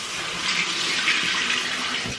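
Warm tap water running steadily into a sink as a face is rinsed during a morning skincare routine, a loud continuous hiss and splash with no break and no voice.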